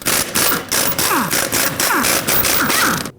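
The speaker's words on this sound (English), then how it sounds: "We can remove the lug nuts with a 21mm." Lug nuts on the rear wheel of a 2009-2014 Ford F-150 are spun off with a 21mm socket, in a run of loud, rapid rattling bursts separated by short pauses.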